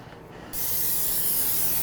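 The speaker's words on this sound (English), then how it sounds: "Some olive oil to spray," A quiet moment, then an olive oil cooking spray can hisses on in a steady, close burst that continues to the end.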